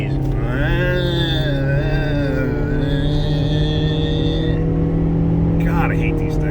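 A car with a CVT transmission on a road test, its steady engine drone and rising, gliding tones heard from inside the cabin, with someone talking over it.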